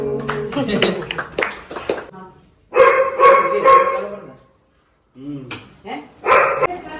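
A dog barks in short bursts of loud, close yaps and bow-wows, in several clusters separated by brief pauses, with voices nearby.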